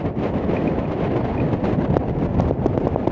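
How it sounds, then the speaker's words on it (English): Wind buffets the microphone on a seaside walk near Filey on the Yorkshire coast, a continuous loud rumbling roar with gusty fluctuations and no voices. "I do apologise if we are getting any wind."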